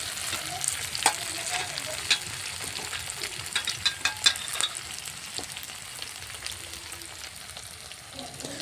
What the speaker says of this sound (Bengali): আদা রসুন বাটাটা দিয়ে দেব, দিয়ে ভালো করে তেলের সঙ্গে নাড়িয়ে কষিয়ে নেব